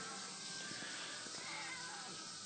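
A pet cat meows in a home kitchen while butter and oil cook in a pan, a faint, drawn-out cry barely rising above a steady hiss of sizzling.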